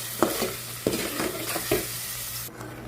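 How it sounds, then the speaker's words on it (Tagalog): Vegetables for sweet and sour chicken are stir-fried in a pan, a continuous close sizzle punctuated by a few distinct scraping strokes of a spatula, then fading slightly at the end. "Bibisa na tayo."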